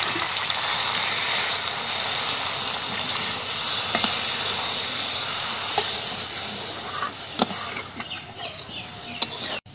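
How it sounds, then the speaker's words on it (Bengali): Simmering hilsa fish curry gives off a steady, close sizzle and bubbling hiss as water goes into the pan, continuous throughout with a few faint clicks and stirring knocks near the end. "একটু জল দিয়ে দিই।"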